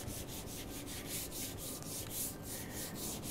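A hand rubs wet concrete mix onto the edge of a wood table to make it look like a concrete top, giving a steady, close scraping rub that pulses rhythmically and carries no talk.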